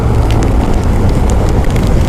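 A loud, dense roar of heavy rain with crackling patter and gusty rumble, continuous and close, during a motorcycle ride toward Baler.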